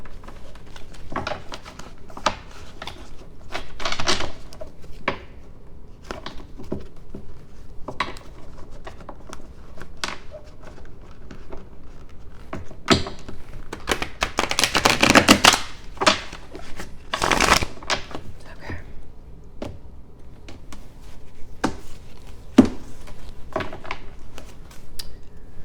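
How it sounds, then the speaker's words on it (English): A deck of cards being shuffled by hand at a tarot-style reading table, a run of crisp riffling bursts and snaps scattered across the span, the loudest cluster around the middle, close and fairly quiet. "let me go ahead and give a couple of good shuffles here on this deck"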